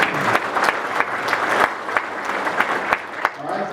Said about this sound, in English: a round of applause for Ben